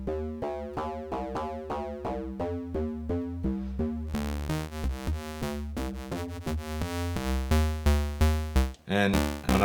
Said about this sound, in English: I think on Basimilus, if I fold the triangle wave, it sounds pretty cool.